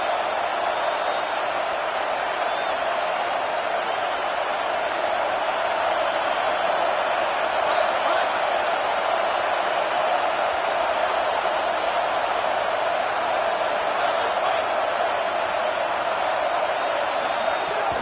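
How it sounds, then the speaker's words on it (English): Alabama football crowd at Saban Field roaring on third down against Oregon, a steady, loud wash of stadium noise sustained without break for the whole stretch. "The Tide crowd rolling noise down onto Saban Field on third down."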